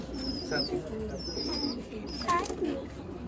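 Pigeon cooing on a village rooftop, soft repeated coos with faint chirps close by, under quiet background murmur and occasional talk.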